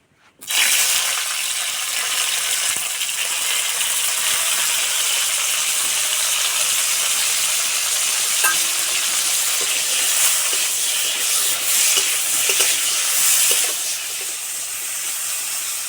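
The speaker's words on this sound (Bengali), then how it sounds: "এবার আমি করলাগুলো ভেজে নেব।" Bitter gourd pieces, squeezed of water, hit hot mustard oil in a kadai and set off a sudden loud hiss that settles into a steady, close sizzle lasting the whole time.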